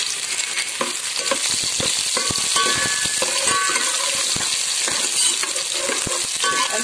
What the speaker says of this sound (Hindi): अब लहसुन के फ्राई होते ही हम इसमें अदरक डाल रहे हैं